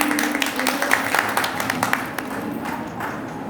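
An audience at a school event applauds a teacher about to sing, a dense patter of clapping that starts fairly loud and gradually thins and fades, with a hint of crowd murmur.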